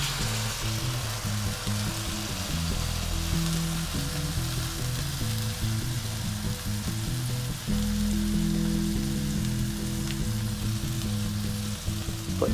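Tuna steaks sear in a hot frying pan that held garlic and onion, giving a loud, steady sizzle and crackle that holds for the whole stretch with no one talking.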